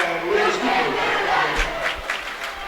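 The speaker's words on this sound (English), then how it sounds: "A boo from the crowd, and this could be a big foul here." Arena crowd at a high school basketball game, Mt. Vernon Rams against Centralia Orphans, booing a foul call late in the fourth quarter: a sustained loud roar of many voices, swelling and holding throughout with scattered sharper shouts.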